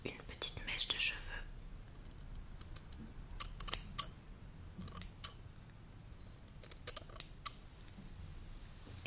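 Crisp snipping of scissors cutting a lock of hair near the ear, recorded binaurally, a few scattered cuts amid soft rustling and faint whispering, close and quiet.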